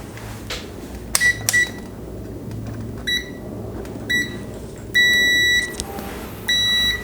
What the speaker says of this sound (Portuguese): Esse multímetro ele tem o BIP e a indicação visual.